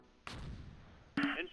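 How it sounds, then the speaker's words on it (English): Mortar rounds in the Close Combat Gateway to Caen war game, set on the Fontenay–Caen road in 1944: two muffled booming impacts, the second sharper and louder, landing about a second apart at moderate distance. "And they're still trying with those mortars."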